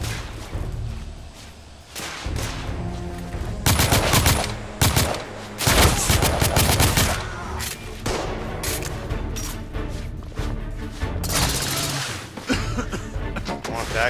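Heavy gunfire in the PS4 shooter The Order 1886, with dense bursts of loud shots and rapid volleys in irregular clusters, continuous throughout and close.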